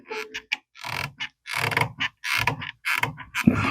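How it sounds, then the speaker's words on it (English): A clamp is tightened onto a wooden board in short creaking, ratcheting bursts separated by brief pauses, close and crisp. "I could put this clamp on here."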